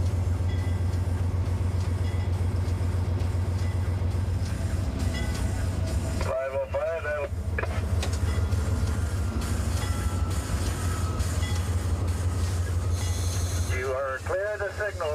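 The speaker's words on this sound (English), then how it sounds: "The rear of the train's about over the crossing now." A train rolls steadily over a road crossing with a constant low rumble and rhythmic wheel clatter. Brief squealing tones rise twice above the noise.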